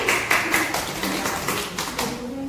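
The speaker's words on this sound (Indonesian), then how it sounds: "Tepuk tangan dulu." Students applaud in a classroom, a short burst of quick, fairly close claps with no talking.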